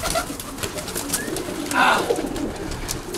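Pigeons coo softly amid a steady outdoor din, one clearer coo rising briefly near the middle among scattered rustling and clicks.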